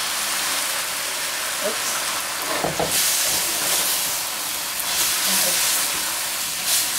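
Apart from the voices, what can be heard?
noodle sauce poured into hot wok, sizzling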